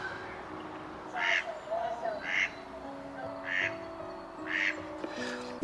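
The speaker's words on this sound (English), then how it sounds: "we have a duck that has lost his girlfriend" A lone duck near a narrowboat gives five or six separate quacks at a fairly even pace, clear and moderately close over a quiet background hum.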